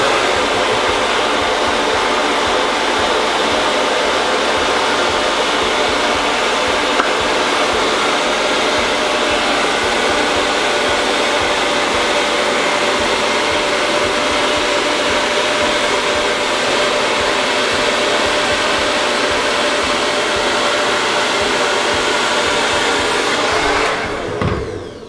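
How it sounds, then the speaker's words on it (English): A handheld blow dryer runs steadily at close range for about 24 seconds, drying hair during an at-home salon blowout, with a loud, constant airy roar that cuts off abruptly at the end. "as I was like bringing it down with the blow dryer"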